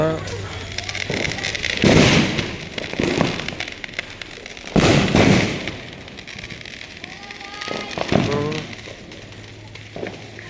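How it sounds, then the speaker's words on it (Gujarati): Firecrackers burst during Diwali celebrations: several loud cracks and crackling bursts, some close and some farther off, while people talk throughout. "જોરદાર ફટાકડા ફૂટે."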